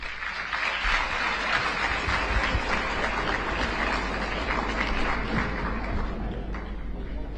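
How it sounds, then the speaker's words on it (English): Sustained audience applause at a university academic forum, dense steady clapping from a large crowd filling the room, loud and continuous with no break. "Another round, big of applause."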